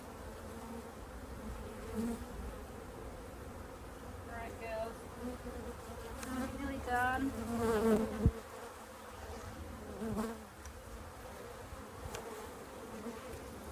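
Honey bees at an open top bar hive during a hive check, a dense steady buzzing swarm close to the microphone with individual bees whining past, while a person speaks briefly and softly over it.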